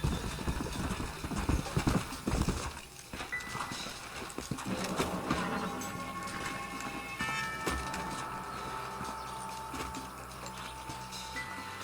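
Horse hooves clip-clop in the video game Red Dead Redemption, a rhythmic trotting beat mixed into a busy backdrop of other game sounds.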